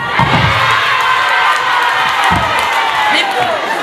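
A crowd cheering at a Chadema political rally, loud sustained shouting and whooping from many voices, close and filling the whole moment.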